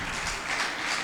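Brief wash of audience applause in a lecture hall at an international guest lecture, steady and fairly soft, with no speech over it.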